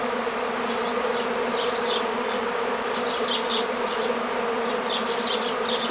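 Honeybee swarm droning continuously and close by while being caught and moved into a top bar hive, a dense steady buzz with individual bees whizzing past now and then; no talking.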